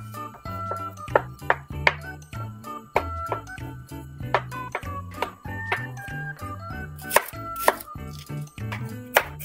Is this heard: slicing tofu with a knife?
yes